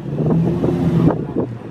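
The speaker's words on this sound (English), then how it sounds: "And what's not helping is that it's really windy." Gusty wind buffets the microphone outdoors at a car meet, coming in rough rhythmic whooshes with a low rumble beneath.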